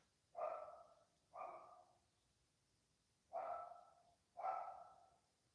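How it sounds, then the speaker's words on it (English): A dog barks four times at a distance, in two pairs of single woofs separated by a pause, faint against a quiet background with no talking. "Oh, I hear a dog barking."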